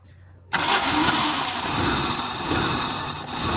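A Toyota Corolla with a no-power, no-start fault cranks and catches abruptly, then runs with a steady, loud idle close by.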